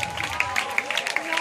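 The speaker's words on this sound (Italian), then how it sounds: "Un bel applauso!" Brief burst of audience applause at an outdoor summer camp show in Lugagnano, scattered claps over crowd murmur with a voice audible underneath.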